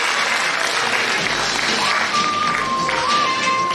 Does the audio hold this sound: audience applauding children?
yes